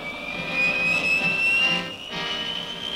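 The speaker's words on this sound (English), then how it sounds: "the pilot and technicians go into the brief countdown that precedes the F-100's takeoff" A 1958 F-100 jet fighter's engine runs near Nellis Air Force Base ahead of a short-runway launch, giving a steady, loud, high whine with a rising tone that briefly dips before resuming.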